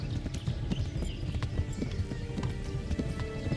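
A horse in the 1896-set game Hunt: Showdown, with rapid, heavy hoofbeats pounding steadily up close and a brief whinny mixed into the clatter, with no clear speech.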